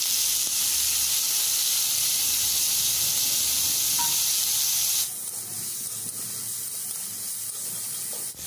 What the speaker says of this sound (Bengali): কড়াই একটু তেল দিয়ে চিংড়ি মাছটাকে ভেজে নেব।